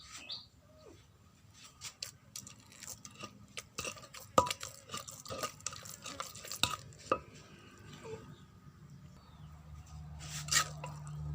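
Liquid overflows and drips while fish is salt-baked with added fish sauce. Faint, scattered drips and soft wet ticks come over a low background hiss, with occasional light clinks.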